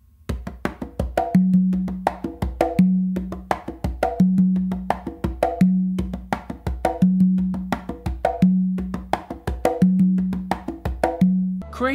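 A songo groove played on two congas, with one tumba stroke left out of the pattern: crisp slaps and ringing open tones repeat in a steady, looping rhythm, close and alone.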